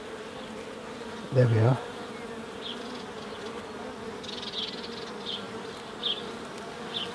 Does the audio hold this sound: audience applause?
no